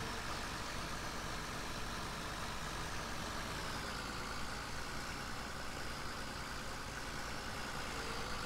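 A tractor engine runs in the Farming Simulator 17 video game, a steady, continuous low drone with no change in pitch or rhythm throughout, and no one talking.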